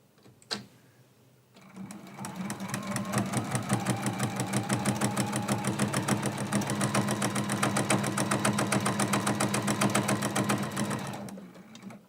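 A sewing machine stitches through a thick flannel quilt block, running steadily for about ten seconds at an even, rapid pulse, close and loud, after a brief pause, with no talking.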